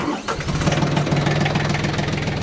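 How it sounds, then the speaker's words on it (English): A tractor engine cranks and catches near a compost pile, quickly settling into a steady, loud, throbbing idle with no voices. "We'll go ahead and just fire up the tractor."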